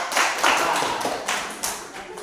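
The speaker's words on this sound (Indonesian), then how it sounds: "Tepuk tangan buat kelompok." A class claps for a student group after its work is checked correct, a short burst of fairly close, uneven clapping mixed with voices.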